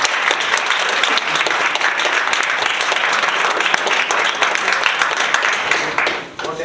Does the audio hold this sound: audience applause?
yes